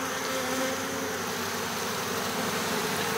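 Honeybees in a queenless hive make a steady, dense buzzing drone that holds close and even throughout, with no voices over it.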